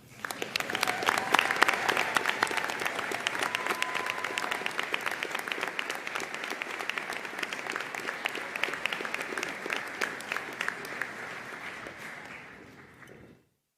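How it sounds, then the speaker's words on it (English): A large crowd applauds steadily at a college commencement ceremony in Leesburg, Florida, for over ten seconds, dense and sustained clapping that tapers off quickly at the end. "Give yourself a round of applause."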